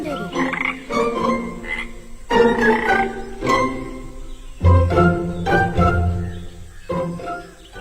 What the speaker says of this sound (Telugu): ఆ పక్కన ఒక చెరువులో బోలెడన్ని కప్పలు నివసిస్తూ ఉండేవి